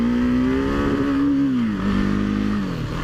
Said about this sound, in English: A bit of rev limiter.